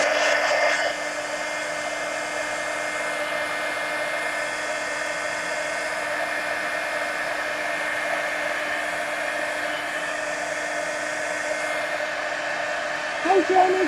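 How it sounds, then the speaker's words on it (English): A handheld dryer blows steadily over a freshly painted steampunk art journal page, a loud continuous whirring drone that runs for over ten seconds with a slight bump at the very end. "let me dry this real quick so I make sure I'm not smearing anything into them"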